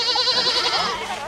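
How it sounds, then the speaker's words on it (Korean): A baby goat bleats in a continuous, wavering cry that holds steady and close for over a second before tapering off, alone with no talking, recorded in Nepal. "이번 목표물은 아기 염소인가 봅니다"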